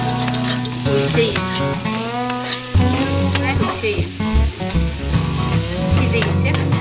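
Papaya dry fry stirred in a hot pan, continuous loud sizzling and frying with scraping stirring strokes, with music playing throughout.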